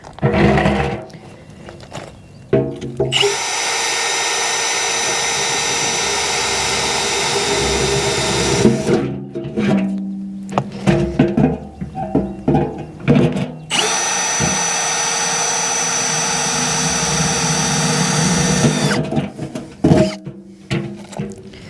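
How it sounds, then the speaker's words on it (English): A power drill whines loudly in long bursts of several seconds each while drilling drainage holes in a plant pot, stopping and restarting, with brief clatter between runs. "Drilling some water holes in here."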